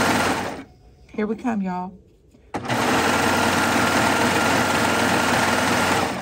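Babylock Triumph serger stitching a quilted T-shirt, a loud steady high-speed whir starting abruptly and running continuously after a brief spoken remark over a quieter stretch.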